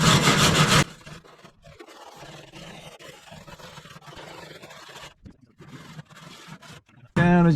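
A tool scrapes rust off a blown-out Jeep Cherokee muffler with rough, rasping strokes held under a loud hiss, set between bursts of noise at the start and end.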